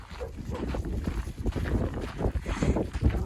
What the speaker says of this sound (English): it's going to be windy all day